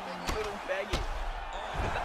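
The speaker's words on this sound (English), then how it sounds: "I think Ivy can hear the punches." Punches and elbows land in the UFC 4 fighting game as two sharp impacts, near and fairly loud, set against constant game noise while someone talks over them.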